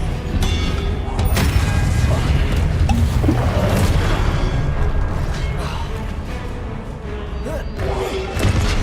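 A Confringo spell explosion in the Hogwarts Legacy video game erupts as a loud, dense boom within continuous battle noise, with thumps and crashes layered throughout.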